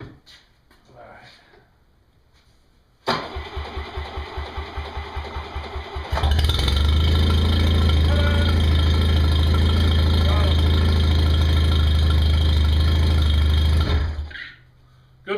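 Boat motor cranks over for about three seconds, then fires up at the six-second mark and settles into a loud, steady near idle before cutting off; a voice speaks briefly in the quiet before starting.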